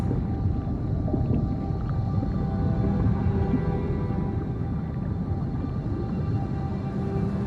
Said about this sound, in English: The blue whale.